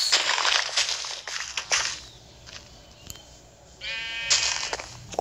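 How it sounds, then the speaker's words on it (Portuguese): Sheep bleat in a modded video game, several loud, wavering calls close by, with crunching sounds and a quiet stretch in between. "Ovelha, velho."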